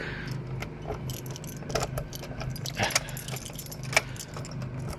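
Keys jingle and clink close by in short bursts in a flooded radio museum workshop, with a couple of sharper metallic knocks and a faint engine hum behind.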